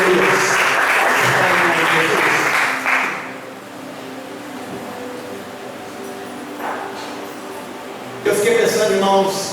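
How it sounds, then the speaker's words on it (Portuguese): Church congregation applauding loudly for about three seconds, dying down to a quieter room, then a fresh burst of clapping near the end, with voices mixed in. "Vamos aplaudir a palavra do Senhor."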